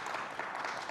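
Audience clapping at a talk on art, technology and the climate crisis, as a crowd votes on an estimate: a short, steady wash of applause filling the whole moment, moderately distant and fairly soft.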